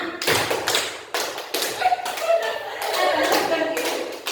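Rhythmic hand clapping game in a group, with sharp claps and taps coming in repeated bursts, joined by voices chanting and counting over the beat.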